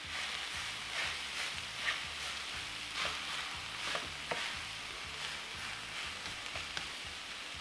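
Hash browns fry in a pan for a gluten-free meal. A soft, even sizzle runs throughout with faint pops, over a low, steady background hum.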